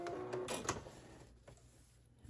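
A sewing machine stitches across 100% cotton fabric with cotton thread, giving a close, steady mechanical whir with small rattling ticks that fades slightly toward the end.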